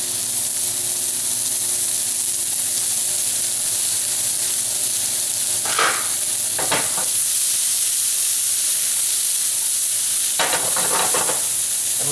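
Zucchini sizzles in a frying pan with a steady, close hiss that runs throughout, broken by a few brief scraping stirs near the middle and end, with no voices.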